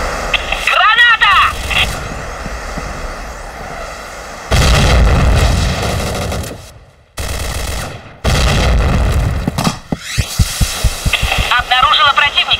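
Grenade blasts in a video game: loud, broad bursts with heavy gunfire-like crackle and rumble, several separate booms over the stretch, with a brief near-silent gap between them and a voice shouting over the action.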